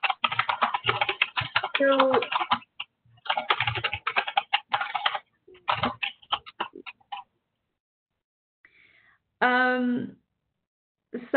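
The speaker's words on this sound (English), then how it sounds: "I got distracted by typing" Computer keyboard typing comes in quick, uneven bursts of clicks, fairly close, between and under stretches of a person talking.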